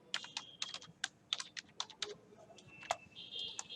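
A password being typed on a computer keyboard while logging into a cloud server node: a close, quick, uneven run of about a dozen crisp key clicks, with no talking.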